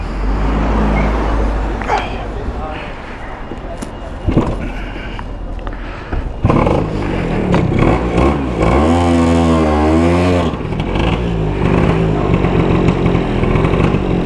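A Vespa PX scooter engine fitted with a Pinasco 251 kit runs roughly, then revs up and down in rising and falling surges, loud and close, with some talking early on.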